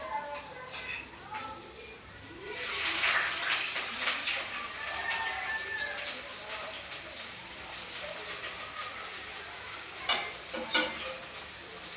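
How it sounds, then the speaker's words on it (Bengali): Onions hit hot oil in a wok and set off a sharp sizzle that jumps up partway through, then crackles on steadily with a few stirring clinks while someone talks. "এদিকে আমার এই কড়াইয়ের তেলও গরম হয়ে গেছে, এখন দিয়ে দেবো পেঁয়াজ।"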